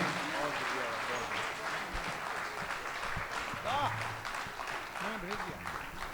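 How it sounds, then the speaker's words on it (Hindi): Sustained audience applause fills a Hindi kavi sammelan poetry gathering at Pyare Lal Bhawan, a dense steady wash of clapping with a voice speaking over it partway through. "दोनों हाथ ऊपर उठाकर तालियां बजाइए"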